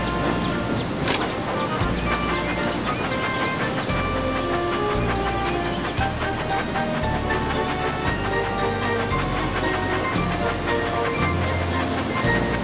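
Steady rushing water from the wild water slide at Waterslide Mountain in the Thomas & Friends: Magical Tracks game, a continuous loud surf-like wash layered with game music and chimes throughout.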